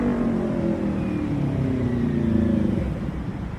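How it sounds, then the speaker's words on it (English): A motorcycle rolls past nearby, its steady engine rumble swelling a little around the middle and easing off toward the end, with no voices over it. "Hear this motorcycle right now."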